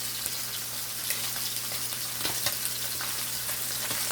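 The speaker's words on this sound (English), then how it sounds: "You don't want to get them to fry too dry" Jamaican festival dumplings frying in hot oil, a steady close sizzle with light crackles and pops throughout, no voices.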